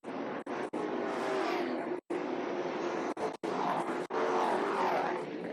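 Racing trucks lapping El Cajon Speedway in 2001, a steady engine roar from the field under green that holds loud and continuous, broken by a few brief dropouts, with faint talk mixed in.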